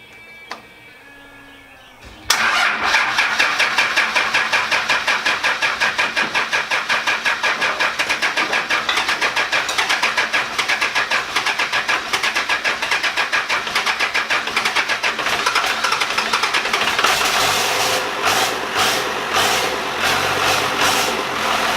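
A Cummins diesel engine in a 75 series Land Cruiser cranks briefly and fires up on its first test start, then settles into a loud, steady, close rattling idle with rhythmic pulsing throughout.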